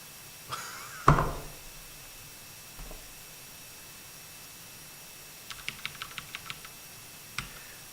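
A short run of quick keyboard key clicks in a quiet room, preceded by a couple of louder isolated knocks and taps.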